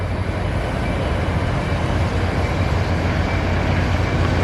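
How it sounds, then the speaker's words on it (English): Train rolling past on railroad tracks, a steady broad rumble and hiss at moderate distance, continuous with no breaks. "there goes a third train heading the direction I just went"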